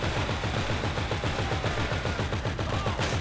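Rapid automatic gunfire in GTA Online, a dense string of fast, evenly spaced bursts that sound loud and continuous throughout.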